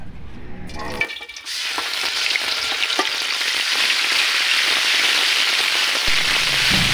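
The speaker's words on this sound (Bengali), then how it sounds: "মশলা তেলের ভিতর দিয়ে সুন্দর করে ভাইজে নিতেছি" Spice paste hits hot oil with a loud, steady sizzle that flares up after a brief clatter and keeps hissing evenly close by, with no one talking.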